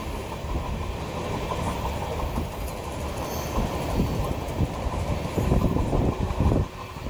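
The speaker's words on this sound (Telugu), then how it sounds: "ఇక 2:32 మన ట్రైన్ బాపట్ల రైల్వే స్టేషన్ నుండి బయలుదేరింది." An Amrit Bharat express train rolls along the rails after leaving Bapatla station, with a steady rumble and clatter of wheels from inside the coach that grows slightly louder toward the end.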